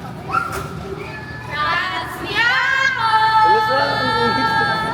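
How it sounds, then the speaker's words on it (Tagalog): Children shout and squeal together at play on a group trip to Baguio, with high excited voices overlapping and rising louder toward the end, close to the microphone. "Nagsisigawan na yung mga bata."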